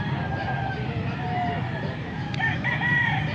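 Young stag roosters crow at a busy poultry market, rising calls partly masked by background chatter and the clucking of nearby fowl.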